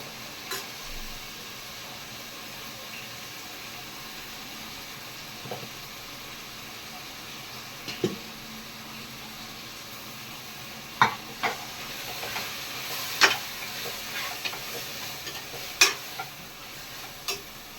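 Ground vegetable biryani masala with mint, coriander, green chilli and cashew fries in a pan, a quiet steady sizzle broken by scattered clinks and scrapes of a stirring spoon, with no speech.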